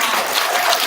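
An audience at an elementary school student recognition ceremony applauds with dense, steady clapping that stays fairly loud and even from start to finish.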